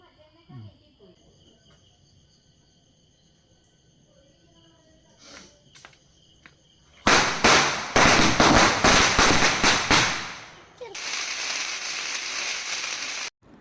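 Onam firecrackers burst in a loud, rapid crackling string that runs for about three seconds. After a short pause a second dense volley follows. Quiet voices and faint sounds come before the bursts.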